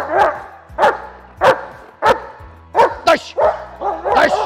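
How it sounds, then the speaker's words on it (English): A Malinois barks hard and close in a quick series of about eight sharp, loud barks, with a few higher yips mixed in near the end. "When I light him up, he's going to stay next to me barking"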